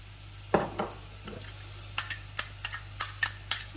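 Chopped onion frying in melted butter ghee over medium heat for dal khichdi, a faint low sizzle with a string of light, evenly spaced clicks and taps of a utensil against the pan.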